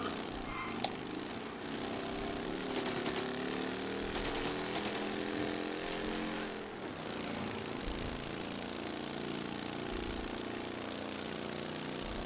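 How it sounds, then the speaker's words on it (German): A motorcycle engine in the video game Mafia drones steadily with a buzzing, revving tone throughout, loud and continuous with only slight rises and dips in pitch. "Ich höre mir nur Motorrad, Motorrad."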